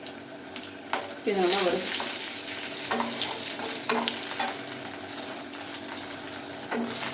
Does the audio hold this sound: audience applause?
no